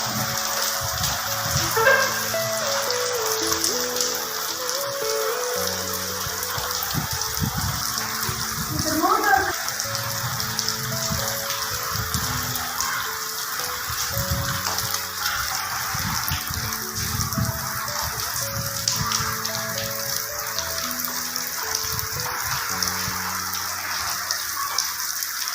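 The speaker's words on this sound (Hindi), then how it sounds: "बहुत तेज़ बारिश है" Heavy rain pours down in a steady hissing wash, with water splashing and gushing, while someone talks intermittently over it.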